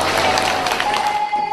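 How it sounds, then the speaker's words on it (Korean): Audience giving warm applause to welcome a traditional Korean music performer, a dense burst of clapping that is loud at first and thins out toward the end, with a faint sustained tone underneath. "뜨거운 박수로 모셔보겠습니다"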